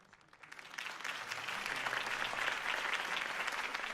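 Crowd applause follows Harvey Dent's campaign speech in the Batman Telltale game, a dense wash of clapping that swells within the first second and holds steady and moderately loud to the end.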